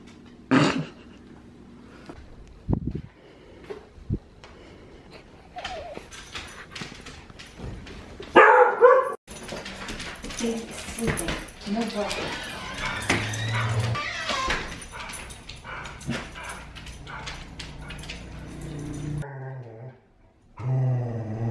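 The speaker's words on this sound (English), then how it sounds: "before the dog started barking" A dog barks in loud, scattered bursts in a home with babies and dishes nearby, the yaps and growls rising over background clatter and fading into a brief silence near the end.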